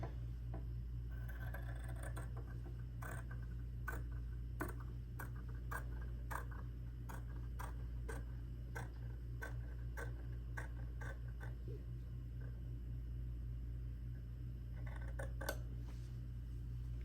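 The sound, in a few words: scissors snipping through fabric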